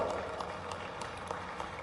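Audience at a public event for the inauguration of a district hospital building in Rajgarh, applauding the chief minister with dense, steady clapping spread across a large crowd.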